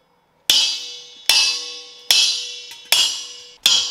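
A large wrench strikes a closed gas bottle valve five times in slow, even succession, each sharp metallic clang ringing out briefly before the next, close and loud with nothing else heard.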